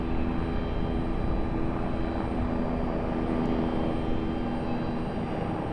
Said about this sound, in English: Helicopter flying over.